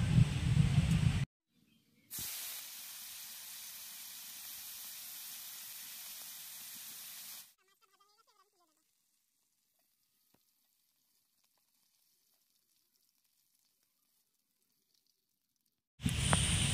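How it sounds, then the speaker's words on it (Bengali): Pointed gourd fries in mustard oil in a wok, a loud sizzling hiss that holds steadily for several seconds and then cuts off into near silence before resuming briefly. "এবার আমি পটলগুলো ভেজে নেব"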